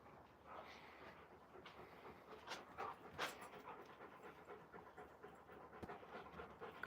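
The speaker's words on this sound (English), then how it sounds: "You out of breath from playing?" A Malamute dog pants rapidly and rhythmically after playing outdoors, soft close breaths repeating steadily at low volume with no voices.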